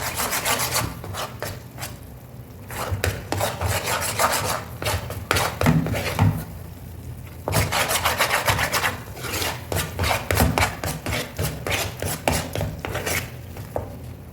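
Thick Mysore pak mixture is stirred in a pan. Each stroke makes a loud, close scraping rub, and the strokes repeat in a steady, uneven rhythm with short pauses, with no talking over them.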